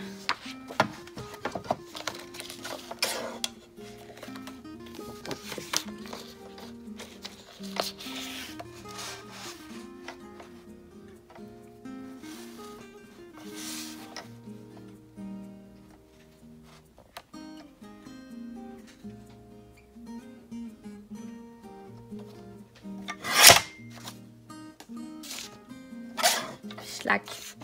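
Paper being cut for a scrapbook page gives repeated rough scraping and rasping strokes, close by and moderately loud, with someone talking between and over the cuts.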